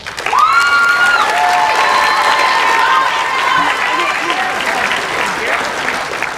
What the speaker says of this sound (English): Again, audience, please hold your applause until all names have been read.